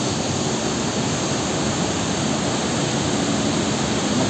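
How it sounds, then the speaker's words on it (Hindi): A waterfall on the Kedarnath route roars steadily, small streams joining it, a continuous broad rush of falling water with no voices and no breaks. "जगह जगह से अलग अलग जगहों से छोटे छोटे झरने आकर मिल रहे हैं इसमें"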